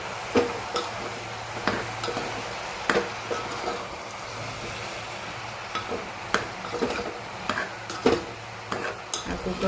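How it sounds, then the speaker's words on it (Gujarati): A spoon stirs red chili powder and turmeric in a small, thick-walled pressure cooker, giving repeated scraping and clinking strokes with a faint sizzle underneath, close and steady throughout. "લાલ મરચું હળદર સરસ મિક્સ કરી લઈએ"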